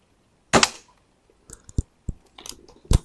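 A BSA R12 CLX Pro air rifle fires one sharp, loud shot up close, followed by a few quieter mechanical clicks and knocks as it is handled.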